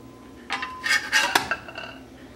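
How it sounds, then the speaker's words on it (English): A beef patty lifted off a stovetop burner and set on a plate, a short cluster of metallic clinks and scrapes of a pan and utensil against the plate, close and brief. "Now I'll take it off my burner and put it on my plate."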